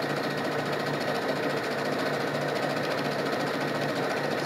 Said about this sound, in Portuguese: Bem rápido, ó, costurei já um lado.